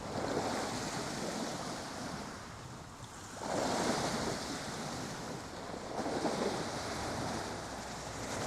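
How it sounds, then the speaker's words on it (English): Ocean waves crash and wash in a generated music track, a broad hissing surge that swells noticeably around the middle and again near the end, steady and moderately loud with no voices. "Then I had an idea to create a similar song with the waves crashing"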